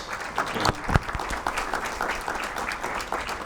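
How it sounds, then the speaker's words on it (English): A crowd at an evening community conversation event applauds for Roger Moreano, with a few sharp individual claps standing out early before settling into moderate, even clapping. "Another big round of applause for Roger Moreano."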